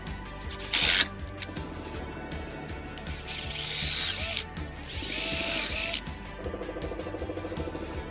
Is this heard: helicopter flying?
no